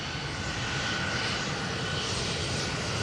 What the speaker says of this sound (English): The Embraer 175 to Düsseldorf is making a rolling start, turn and burn.